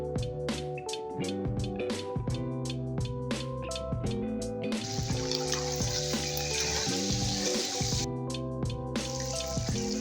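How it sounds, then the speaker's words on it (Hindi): Steady wet sizzling of boiled beef frying in oil, with bubbling and clinking knocks of a utensil against the pan throughout, close and fairly loud. "उस पानी को मैं इस ऑयल में फ्राई करके अच्छी तरह से खुश्क कर लूँगी।"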